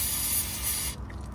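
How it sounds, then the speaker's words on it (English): WD-40 sprayed from an aerosol can onto the transmission plug of a 2021 Toyota Tacoma, a single short close hiss lasting under a second before it cuts off. "WD-40."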